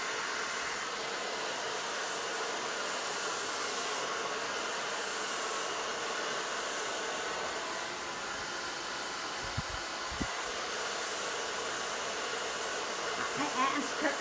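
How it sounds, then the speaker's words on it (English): A hair dryer blows steadily at close range during a round-brush blow-dry on a live model's hair, a constant broad whoosh running throughout with a couple of brief knocks near the end. "Those cool buttons are on a dryer for a reason."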